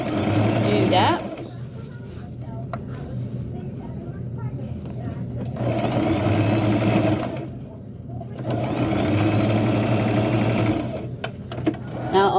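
A sewing machine runs in long steady stitching bursts on the sleeves of a burial gown, close and loud, with short pauses between runs.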